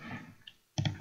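Mouse clicks while selecting a colour from a palette in G'MIC image software: a faint tick near the middle, then a sharper, louder double click near the end, with no talking.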